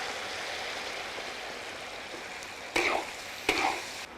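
Pork skin goes into a hot wok with chilli bean paste, Sichuan green peppercorns, ginger and garlic, giving a steady sizzle broken by two louder bursts of frying and stirring near the end.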